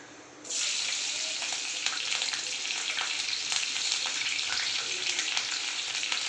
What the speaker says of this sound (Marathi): ते तेल तापलेलं तर टाकता हिरवी मिरची